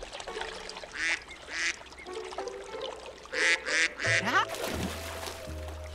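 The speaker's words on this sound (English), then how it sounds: "Here, Ducky Lucky. Delicious corn." A duck quacks in a run of short, fairly close bursts, some in quick succession, while splashy movement and other sounds play quietly underneath.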